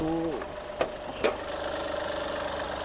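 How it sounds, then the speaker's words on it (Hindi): A Mahindra TUV300 engine idles steadily just after starting, a smooth even hum with a couple of brief clicks from under the bonnet. "ये कुछ इसकी आवाज़ है दोस्तों। काफ़ी रिफाइंड इंजन है"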